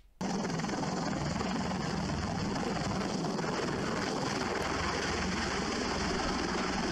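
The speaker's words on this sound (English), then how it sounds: "what could go wrong if a helicopter takes off from a pad not designed for it?" A helicopter lifts off from a pad not built for it, a loud, constant roar of engine and rotor wash that kicks in abruptly and holds steady and close for several seconds, with no voices.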